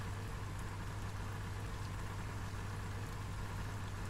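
Steady rain falling at a river in a fishing video game, a dense continuous hiss with a constant low hum underneath and no talking.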